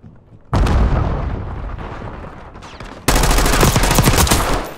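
Gunfire in the Call of Duty Black Ops 6 multiplayer game, loud and close, with a dense burst of shots and booming impacts that eases off, then a second harder stretch of rapid automatic fire.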